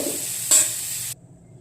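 Potatoes frying in hot oil give a steady close hiss with a brief louder burst of sizzle midway, then the sound cuts off abruptly.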